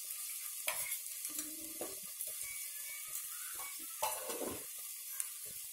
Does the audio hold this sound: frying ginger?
yes